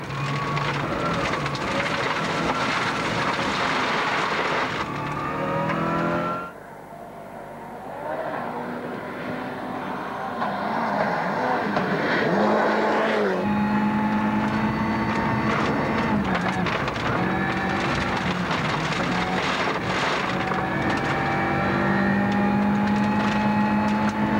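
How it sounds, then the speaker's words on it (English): An onboard rally car at speed on a stage, flat-out engine roar with sharp gear changes and shifting revs, loud and continuous throughout. "If we go on board with Tommy on stage 4, it's obvious that he's driving right on the limit"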